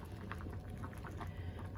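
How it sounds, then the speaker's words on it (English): A pot of winter garden vegetable soup bubbling on the stove, a soft steady simmer with small pops and gurgles, fairly quiet and continuous. "I don't want it boiling to death."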